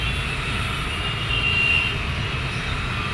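An airplane landing near Mumbai airport, a steady low rumble with a faint high whine, heard from a distance and rising slightly midway.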